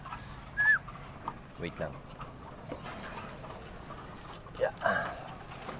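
Tippler pigeons cooing in a loft in Calamba, Laguna, with a few soft coos and brief wing flutters at moderate distance, under occasional short spoken words and faint background bird chirps.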